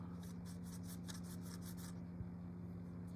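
Dry AK Interactive Real Colors marker paint on a scale model is rubbed in quick scratchy strokes for about two seconds, then stops, all over a steady low background hum.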